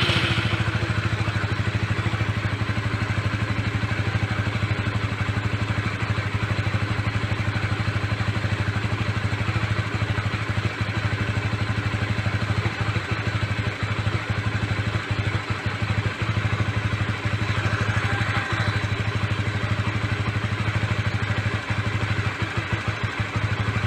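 A fuel-injected motorcycle engine, just started during a service, idles steadily for the whole stretch with an even mechanical clatter and hum at close range, no speech.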